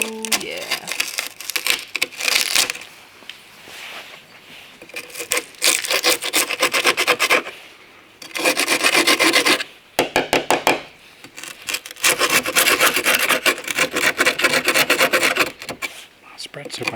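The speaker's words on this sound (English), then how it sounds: "Let me get a scraper and scrape it all off." A scraper rasps residue off a car part on a Talbot Sunbeam Lotus in a workshop, in repeated loud scraping bursts separated by short pauses.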